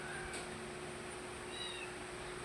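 A domestic cat gives a few faint, short meows indoors, set against a steady background hum with no talking.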